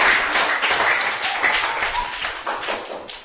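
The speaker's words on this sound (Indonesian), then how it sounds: "Beri tepuk tangan untuk teman-teman yang sudah menjawab." Students in a classroom applaud classmates who answered a science question, a short burst of dense, fairly loud clapping from a group that holds steady for a few seconds before thinning.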